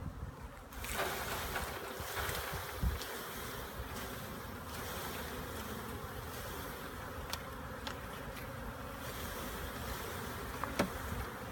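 A dense, steady buzzing of about 2,500 honeybees being dumped into a hive fills the air, close and continuous, with a few sharper bumps and rustles along the way.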